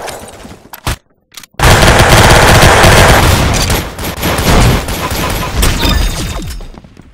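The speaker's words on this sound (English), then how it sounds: "I hate this freaking gun. The hand cannon sucks." The hand cannon in Roblox Arsenal fires a few sharp shots, then a dense, loud barrage of game gunfire and impacts runs on for several seconds.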